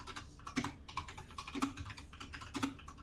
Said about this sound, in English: Do you hear that typing?